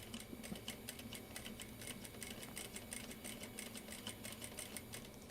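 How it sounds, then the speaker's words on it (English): A home sewing machine stitches a zipper pouch at a steady, moderate pace, giving a continuous rapid rhythmic clatter, faint and even throughout with no pauses. "I'm going steady, but not going super fast here. I'm trying to keep my stitching as straight as I can."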